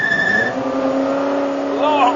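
Ford GT40 race car on track braking hard into a corner past the pits, with a loud engine note dropping and brief tire squeal, close and continuous, and someone speaking over it.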